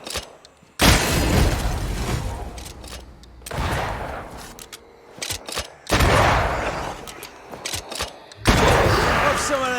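Rifle fire rings out in Banishers: Ghosts of New Eden, several loud, booming shots with long reverberant tails, spaced a couple of seconds apart, with voices talking between them.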